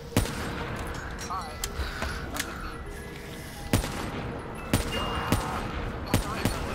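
Rapid sharp bursts of ray gun fire aimed at the moon in the Der Eisendrache Easter egg of a zombies video game, irregular loud shots with game effects and a player speaking over them.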